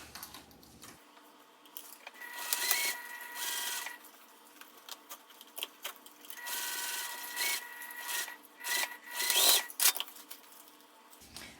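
A sewing machine top stitches a vinyl pouch in several short whirring runs with pauses between them, close and fairly quiet.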